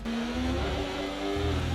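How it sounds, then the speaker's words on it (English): Ferrari Formula 1 car engine in the racing video game F1 25, revving loud and close with a steady high buzzing drone that climbs and holds, with a brief tire squeal near the end. "I can't remember what the Ferrari engine sounded like before this in this game."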